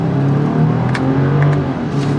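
A 2025 BMW X5 40i accelerates hard, its engine note rising in a loud, close, steady roar for a couple of seconds with no voices.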